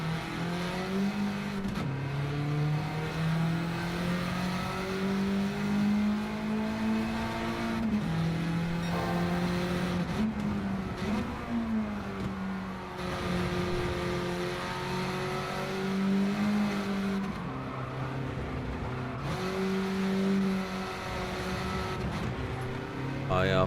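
Race car engine in a racing video game, a sustained high-revving drone with pitch rising and dipping through gear changes, steady and prominent throughout.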